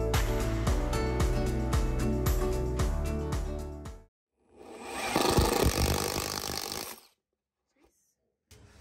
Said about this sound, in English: more like impact driving